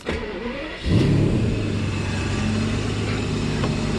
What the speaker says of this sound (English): we want to see if engine runs with throttle bodies connected and it does not go in a limp mode